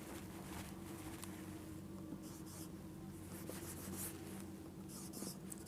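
A pen writes numbers on paper during a lesson on adding fractions, giving a steady soft scratching over a constant low background hum.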